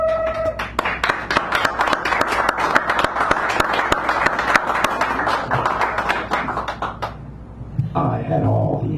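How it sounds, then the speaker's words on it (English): Dense, continuous applause fills a small San Francisco café during a poetry hour as the crowd welcomes a poet forward. The clapping holds steady for about eight seconds, then breaks off into murmuring voices. "Please give him a round of applause as he prepares to come forward and deliver"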